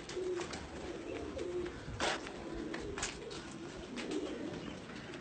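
Teddy pigeons, including Rampuri birds, coo in a steady low rolling murmur, with several overlapping calls repeating close by through a continuous background hiss.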